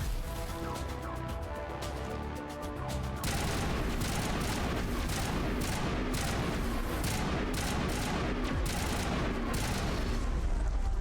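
Gunfire in the Mass Effect video game: a steady, dense stream of shots with overlapping bursts that turns louder and busier partway through, with no talking.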